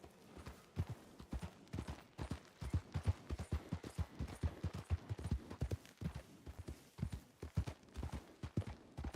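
Horse hooves clip-clop at a steady, close rhythm on a dusty trail, the beats loud and even throughout with no talking.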